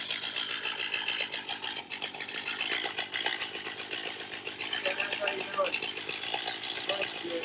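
Stihl 361/362 chainsaw running steadily at a high buzzing pitch, loud and continuous throughout with a slight wavering rasp.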